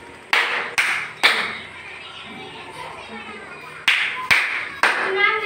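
Children in a classroom clap their hands in short sharp bursts: a group of three claps, a pause with faint voices, then another three claps, close and fairly loud.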